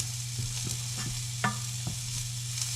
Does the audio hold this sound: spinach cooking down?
yes